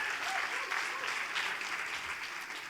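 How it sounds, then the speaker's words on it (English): A conference audience at a 2016 Limmud FSU event in New York claps in a continuous, even, fairly distant roar of many hands, with some voices mixed in. "Please give yourself a round of applause."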